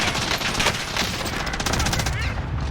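MG82 machine gun fire in Call of Duty Warzone, a loud continuous automatic burst with rapid rhythmic shots, while a voice talks over it.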